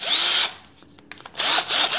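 A Titanium 12V cordless drill whirs loudly and up close in two short bursts, separated by a quiet pause with light clicks and handling sounds.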